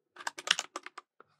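A command is typed on a computer keyboard: a quick, close run of about ten crisp key clicks with a final isolated tap, with no talking.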